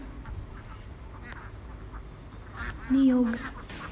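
Low background murmur with faint rustling, then a brief, loud nasal quack from a duck near the end.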